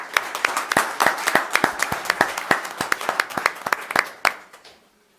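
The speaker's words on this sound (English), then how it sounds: "So round of applause for them" Audience applause at a Nashua candidate forum for city alderman at large, a burst of many hands clapping in a steady patter for about four seconds before fading out with a few last claps.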